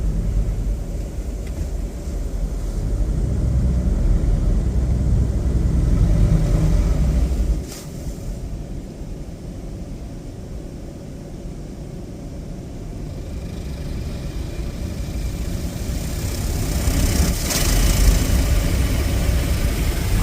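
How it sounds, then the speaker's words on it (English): High-pressure turbo nozzles of a Mark VII Aquajet GT-700 car wash spray steadily, a broad rushing hiss over a deep mechanical rumble that dips briefly, then swells again toward the end. "I'm surprised all the turbo nozzles are working"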